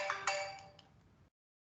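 A mobile phone rings with a short chiming ringtone, a few bright tonal notes close by that fade out and stop abruptly after about a second.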